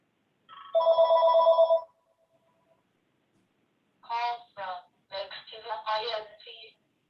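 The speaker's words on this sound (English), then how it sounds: "let the phone stop." A telephone rings once with a steady electronic trill lasting about a second, followed by silence and then a person speaking nearby.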